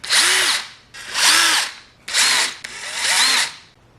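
A power drill loosens screws on a motorcycle luggage rack during a fender eliminator install on a Cobra E-vader, four short close whirring bursts in quick succession, each revving up and winding down.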